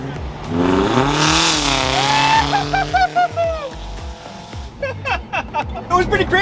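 Modified Toyota Tacoma truck engine revving up loudly, rising then dropping, with a few sharp bursts toward the end and voices heard between the revs.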